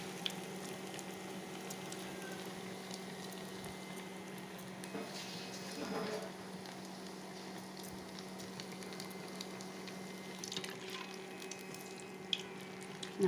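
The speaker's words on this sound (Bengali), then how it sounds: "এইভাবে একটা একটা করে সব কিছু সবগুলো ভেজে নিতে হবে।" Food pieces frying one at a time in hot oil, a faint steady sizzle with occasional bursts and crackles as pieces are added or moved.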